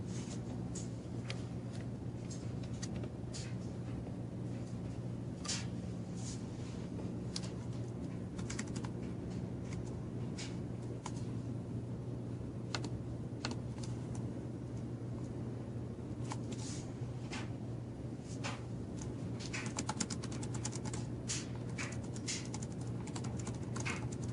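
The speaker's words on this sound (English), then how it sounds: "I'm going to test the keyboard out for you guys right now." Typing on the keyboard of a Dell Latitude 3540 laptop: scattered soft key clicks tap irregularly over a steady low hum throughout, fairly close and quiet, with no talking.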